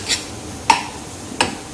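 A spoon stirs garam masala into a cooking tadka, making three sharp clinks against the pan at roughly even intervals over a quiet sizzling background.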